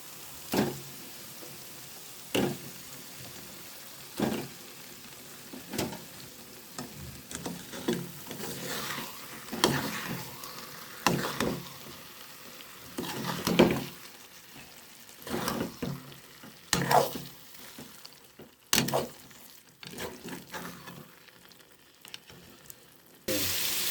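Eggs frying in biryani masala in a pan, with a quiet sizzle throughout and a series of irregular, louder stirring scrapes and clatters.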